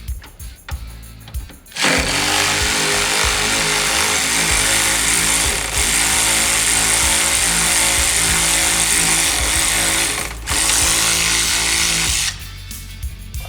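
A loud power tool buzzing continuously as it spins a 17mm nut off the steering shaft bolt joining the rack and pinion on a Polaris RZR XP 1000, starting after a short pause and running for several seconds with brief dips.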